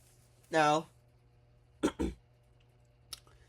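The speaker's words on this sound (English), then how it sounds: "clear my throat a little bit" Someone clears their throat with one short rasping burst, followed by a couple of soft clicks and mouth noises in a quiet room.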